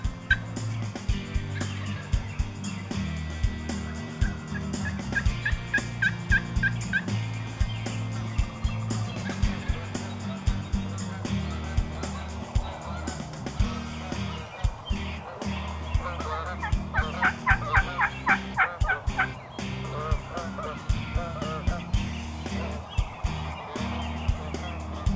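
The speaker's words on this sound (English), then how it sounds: "We knew there were plenty of birds around, but the trick would be getting a longbeard within range of Jenny's 12 gauge." A wild turkey longbeard gobbles during a Michigan hunt, with several loud, rattling gobble bursts rising over a steady low background drone.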